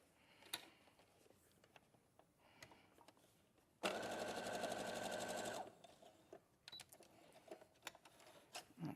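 Sewing machine stitching an apron seam: a close, loud, even mechanical whir lasting about two seconds, with quiet clicks and handling sounds before and after.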